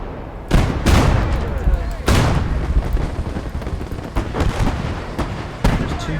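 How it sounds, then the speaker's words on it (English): Mortar shells burst in a World War II video game battle: several sharp, loud booming blasts land in quick succession over a continuous background of battlefield noise. "There's the mortars coming in."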